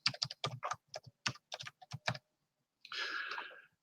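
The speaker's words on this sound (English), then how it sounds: "Now this takes a bit of typing" Bursts of quick, close tapping on a computer keyboard, irregular clicks in short runs, then a pause before a brief hiss-like scrape.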